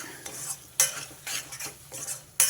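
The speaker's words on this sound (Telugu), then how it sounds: "దీన్ని అడుగు అంటనివ్వకుండా తిప్పుకోండి" A spoon stirring capsicum masala curry in a pan, with quick scraping strokes over a steady sizzle of frying oil, close and loud.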